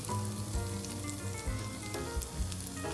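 An omelet with green onion sizzles steadily in a pan, a dense, close crackling fry with occasional soft thumps as it is moved, with no voices.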